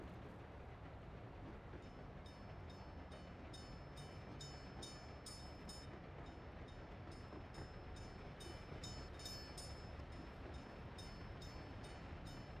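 A train runs in Workers & Resources: Soviet Republic, a steady rolling rumble with rhythmic clickety-clack of wheels over rail joints throughout, fairly faint and continuous, with no talking.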